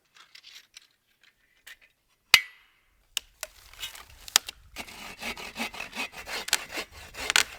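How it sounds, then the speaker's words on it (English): A hand saw cuts through dead trees being taken for shelter poles at a snowy woodland camp. A few scattered knocks come first, then rhythmic, scraping back-and-forth strokes build steadily, close and fairly loud. "I'm only cutting dead trees for my poles"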